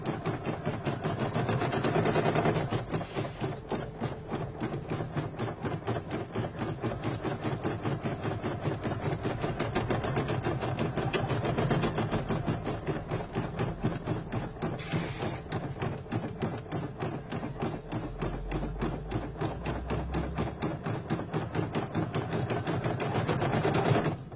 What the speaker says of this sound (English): So I'm going to reposition it again and stitch it at its original size this time.